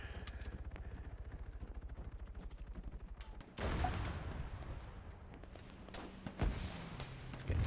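Gunfire in the military shooter Arma 3 during a tower climb, a rapid rattle of repeated shots in the first half followed by louder, broader blasts and scattered cracks, with no one talking.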